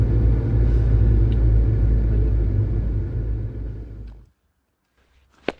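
Engine of a VW Golf Mk2 Madison rumbles loud and close, a deep steady drone that fades and cuts out near the end, followed by near silence and one brief click.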